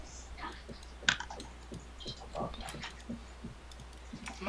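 Sparse, irregular clicks of computer keyboard typing, faint and close, with one sharper tap near the start over a low hum.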